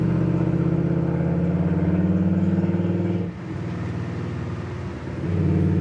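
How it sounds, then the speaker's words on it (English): A 1964 Chevrolet Impala's exhaust gives a deep, throaty rumble while driving, a steady low drone that dips briefly during a gear change and then picks back up, close and loud with no speech. "especially with the way that exhaust sounds. It just has a nice aggressive tone."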